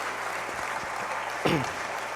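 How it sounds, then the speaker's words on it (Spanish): A church congregation breaks into applause in a hall with steady background hiss, and the clapping stays soft and brief. "vamos a darle un aplauso al Señor"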